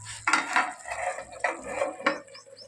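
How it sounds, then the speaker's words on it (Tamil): A lid clanks and rattles onto a metal pot of simmering masala for a wedding-style kara kuzhambu, a few close knocks and scrapes in quick succession, with no talking. "மூடி போட்டு மூடி வச்சுக்கிடுவோம்."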